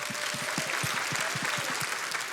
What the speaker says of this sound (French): applaudissements pour Madame Ferry